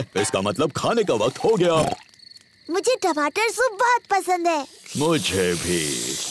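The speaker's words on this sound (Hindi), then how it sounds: "ये कीड़ों की चीची आवाज है।" Cartoon night insects chirp at a Peppa Pig campsite, a steady high hiss-like trill running faintly beneath the characters' talk and most audible when the voices pause.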